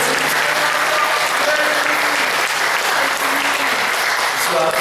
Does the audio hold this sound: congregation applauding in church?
yes